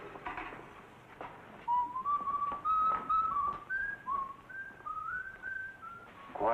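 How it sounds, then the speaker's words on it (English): A man whistles old songs in a quiet sleeping-car berth, a steady melodic line of sustained and sliding notes rising and falling over soft background noise, fairly close and alone. "And he's whistling all night. Old songs. Nothing but old songs."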